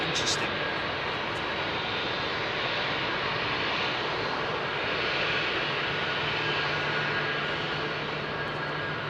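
A jet airliner at London Heathrow, runway 27R, roars steadily and loudly throughout, a broad continuous engine rumble with people talking faintly underneath.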